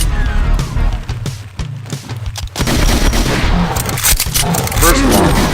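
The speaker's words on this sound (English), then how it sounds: "Even the pistol in this game has been upgraded." Rapid gunfire from an upgraded pistol in the Project Brutality mod for Doom, with a dense run of punchy shots under loud game action, booms and music, with no pause between.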